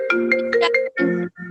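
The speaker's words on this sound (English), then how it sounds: "Someone's phone." Mobile phone ringtone going off during a village planning board meeting, a repeating electronic melody of short bright tones, fairly loud and near, sounding alone with brief gaps.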